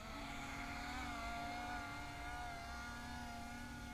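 Motors of a QIDI A570 VTOL RC plane with a 315 mm wingspan whine steadily at high throttle during takeoff in quadcopter mode, a sustained tonal buzz with a slight shift in pitch and no talking.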